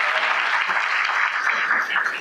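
Audience at a Brazilian presidential ceremony applauding, a dense sustained round of clapping from many hands in a hall, loud and steady before tapering slightly at the end.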